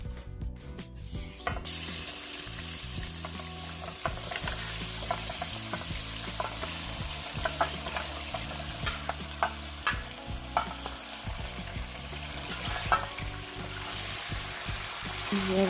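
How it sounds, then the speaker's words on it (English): Chicken searing in caramelized brown sugar and oil in a pot, a loud, constant sizzle with scraping stirs and occasional clanks of the utensil throughout. "toss your meat in and get it nice and colored and seared in that"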